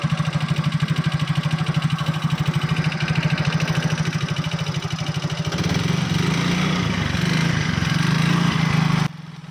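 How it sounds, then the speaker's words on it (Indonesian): A fuel-injected motorcycle engine starts and runs with a steady, close, loud rapid putter that deepens and strengthens midway before cutting off abruptly near the end. "ini udah berhasil nyala motornya ya"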